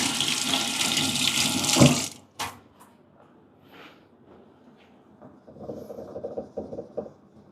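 Tap water runs loudly over an espresso machine part in a sink for about two seconds, then cuts off, followed by quieter splashing, dripping and handling of the wet metal part.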